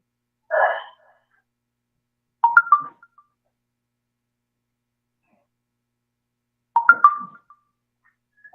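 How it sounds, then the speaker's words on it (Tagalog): A mobile phone rings with short, bright melodic chirps. Two bursts sound close by, separated by several seconds of silence, and a brief muffled noise comes just before them. "Ang ingay naman ng cellphone na to."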